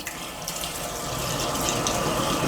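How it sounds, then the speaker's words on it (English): A kitchen sink faucet runs in a steady, close, rushing stream while water fills toward a garbage disposal, growing slightly fuller with no talk. "I'm gonna turn on some water."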